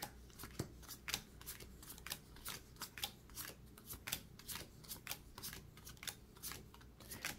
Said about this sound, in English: it would help if I was shuffling the cards the correct way